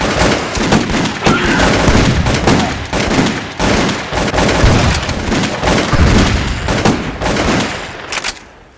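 Rapid bursts of gunfire from a Walking Dead scene, loud and dense, with repeated shots and fusillades running almost continuously before cutting off near the end.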